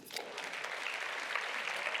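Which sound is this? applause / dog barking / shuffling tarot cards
applause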